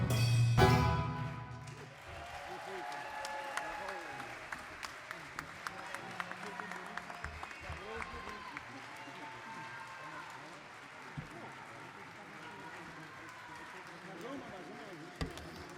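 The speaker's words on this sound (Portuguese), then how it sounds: "Obrigado por este entusiástico aplauso." Audience applause after a Portuguese folk song performance at the Cante Fest 2021 festival, loud at first, then fading into scattered claps over crowd murmur.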